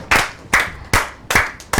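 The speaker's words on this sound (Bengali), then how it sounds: "আমরা সবাই রেদওয়ানের জন্য একটা হাততালি দেই" Children clap for a classmate's song, five sharp claps in a slow, even rhythm, close and fairly loud with short quiet gaps and no voices.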